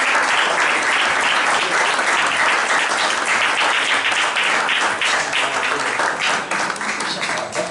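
An engineering-conference audience breaks into sustained applause, a dense, loud, even wash of clapping from many hands that holds steady and starts to thin near the end.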